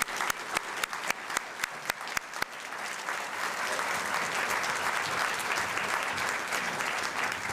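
An audience greets a lecturer in Melbourne with applause, a few loud separate claps at first that swell into steady, full clapping from a sizeable crowd.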